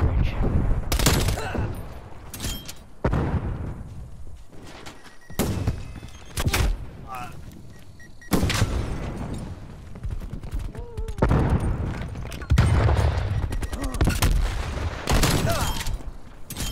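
Gunfire in Call of Duty Cold War multiplayer, including a shotgun, with repeated sharp shots and bursts in a close, dense exchange and a voice talking intermittently between them.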